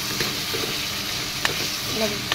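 Chicken and cabbage curry sizzles and hisses in a frying pan while it is stirred, a steady close frying noise broken by a few sharp scraping clinks of the utensil.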